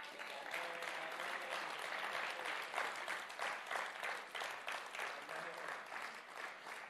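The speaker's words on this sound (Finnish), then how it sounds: "Annetaanko tuotantotiimi aplodit Jeesukselle?" A church audience at a New Year gathering in Loimaa gives sustained applause, a thick and fairly even clatter of many hands that swells slightly midway, with faint voices mixed in.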